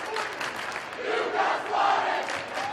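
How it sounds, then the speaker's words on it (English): The Luers student cheer section at a boys high school basketball game roars and shouts after a blocked shot, a dense crowd yell swelling and peaking toward the end of a short burst. "the Luers cheer section letting Gutierrez know that he got swatted"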